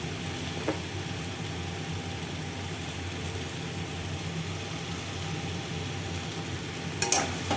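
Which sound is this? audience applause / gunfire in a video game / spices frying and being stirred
spices frying and being stirred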